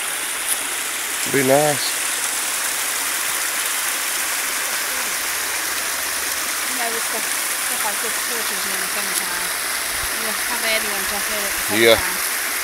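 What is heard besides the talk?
waterfall and stream flowing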